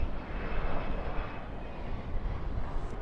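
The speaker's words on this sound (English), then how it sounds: "Qatar Airways going west." Qatar Airways airliner at Dallas/Fort Worth airport at night, a steady broadband engine roar held at constant loudness throughout, heard alone with no voices.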